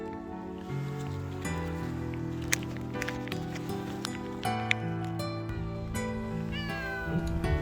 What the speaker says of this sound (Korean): 멀리서 지켜보던 흰검냥이도 챙기고